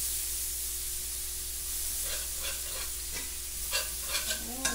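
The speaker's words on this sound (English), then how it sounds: "You just keep cooking that flour down until it's the color that you want your gravy." Flour browning in a pan for beef gravy sizzles and hisses steadily, broken by a few sharper stirring scrapes toward the end; no one speaks.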